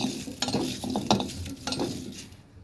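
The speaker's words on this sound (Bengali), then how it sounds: "দেখুন আমি এখন পেঁয়াজটাকে ভেজে" Onions dry-frying in a pan: a soft sizzle with intermittent scraping and stirring strokes against the metal, close by and fairly quiet.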